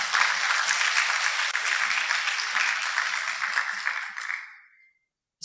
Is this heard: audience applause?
yes